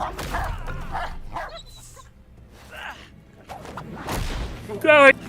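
A dog in the video game Indiana Jones and the Great Circle barks, yips and whimpers in close, repeated bursts, with a loud run of barks near the end, while people talk over the game audio.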